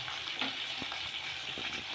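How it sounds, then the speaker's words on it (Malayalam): Food frying in a pan during home cooking: a steady, close hiss and crackle of hot oil with a few soft stirring knocks, continuous and fairly loud throughout, with no voices. "ഓക്കെ, കുറച്ച് നമ്മൾ പൊരിച്ചെടുക്കുന്നുണ്ട്."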